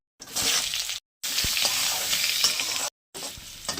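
Green chilies and nigella seeds tempering in hot white cooking oil, a steady broadband sizzle in bursts with short silent gaps and occasional stirring clinks, close and fairly loud with no talking.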